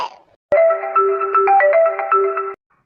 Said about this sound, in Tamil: சுமதி தான் ஃபோன் பண்றான்னு நினைக்கிறேன்